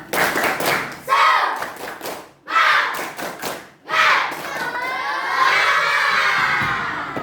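A classroom of children does a rhythmic clapping chant, with bursts of claps and shouts in short rounds followed by a longer stretch of excited cheering voices.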